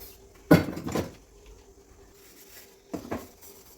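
Pots and dishes being washed in a home kitchen give two bursts of clattering metal and crockery, one early and one near the end, with quieter scraping and rinsing between.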